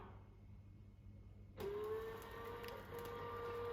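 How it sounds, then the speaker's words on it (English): A Smart Wings HomeKit window shade motor starts abruptly and hums steadily as it lowers the shade, a close, quiet whirring tone that keeps going after a faint background hiss, with no one talking. "it's going to lower the window motor all the way down"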